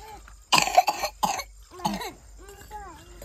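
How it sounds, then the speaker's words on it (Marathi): A woman at home coughs in several harsh, close bursts, followed by throat clearing and a few short vocal sounds as the fit eases. "तिला खोकला लागला"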